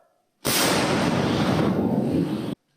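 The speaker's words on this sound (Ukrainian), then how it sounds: "Гармата до бою! Постріл!" One loud, sustained blast of cannon fire erupts suddenly, roaring for about two seconds before cutting off.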